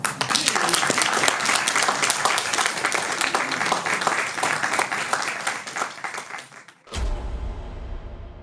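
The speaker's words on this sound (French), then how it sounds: "Et on peut applaudir Buffet" Festival audience applauding a film at a cinema screening, sustained dense clapping for about seven seconds before it cuts off abruptly into a different low rumbling sound.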